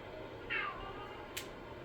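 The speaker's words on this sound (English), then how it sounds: "Sounds like a cat." A cat meowing in the video game Honkai Star Rail, a single brief faint mew followed by a quick high chirp over a quiet game backdrop.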